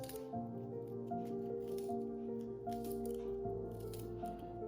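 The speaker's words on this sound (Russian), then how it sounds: "И теперь сюда вот так нарежу чеснок. Тоже маленькими кубиками." A knife cuts garlic into small cubes by hand, making soft, quick, repeated squishy snips close by, alone under a steady musical background hum.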